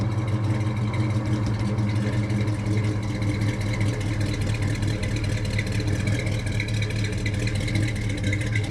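A 1971 Ford Torino 500 Halo Roof with an M-code 351 Cleveland four-barrel V8 driving, a steady low engine drone and road rumble heard from inside the car, continuous and even throughout.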